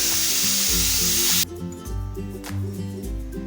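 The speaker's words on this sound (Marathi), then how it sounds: "साधारण एक दोन सेकंद ही भाजी आपल्याला इथे परतून घ्यायची आहे" Purslane greens sautéing in a pan make a loud hissing sizzle that drops abruptly partway through, continuing as a softer fry with occasional stirring scrapes under steady background music.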